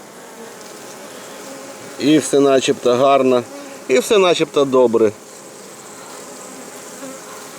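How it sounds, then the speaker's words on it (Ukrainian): Honeybees hum at a hive during beekeeping, keeping up a steady, close buzz, while someone speaks briefly in the middle over the droning insects. "Тим паче зараз погоди немає, вся бджола вдома."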